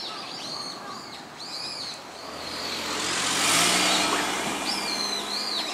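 A car approaches along a street lined with ginkgo trees, its engine growing louder toward a close peak and then easing slightly, while birds chirp and call in the background.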